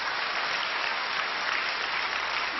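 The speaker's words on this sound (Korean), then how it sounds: "우리 하나님께 감사의 박수를 올려드리십시다." A church congregation applauding, dense sustained clapping from a large crowd, even and continuous throughout.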